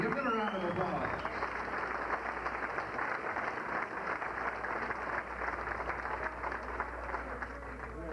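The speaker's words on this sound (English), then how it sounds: "Give them a round of applause" Banquet audience at a 1992 Blythe Speedway awards dinner clapping in a continuous dense burst, with a voice briefly audible at the start over the applause.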